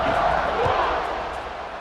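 A stadium crowd roars in the College Football 26 video game: a steady, dense wash of fan noise runs throughout with faint voices mixed in.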